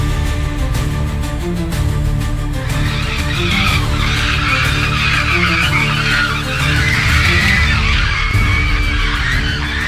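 Tires of a truck skid and lose traction on a slick road as it slides backwards toward a river, a sustained scraping squeal under continuous background music.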